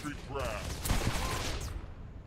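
Cannons on the back of a Saints Row IV vehicle firing, a rapid burst of blasts and explosions peaking mid-clip over a rumbling bed, fairly loud and close.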